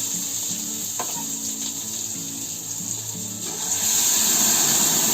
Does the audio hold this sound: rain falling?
no